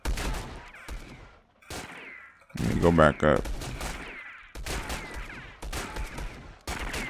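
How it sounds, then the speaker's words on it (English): Gunfire in the Roblox game Bandit Simulator crackles in repeated bursts of shots, fairly loud and mixed with game noise, while a person talks between and over the volleys. "I hear gunshots."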